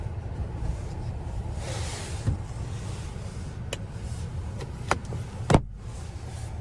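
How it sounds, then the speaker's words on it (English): A Hyundai Elantra N Line sunroof shade motor hums steadily inside the car cabin, a low continuous electric whir with a few soft clicks near the end, no talking over it. "I'm gonna open the sunroof shade back up"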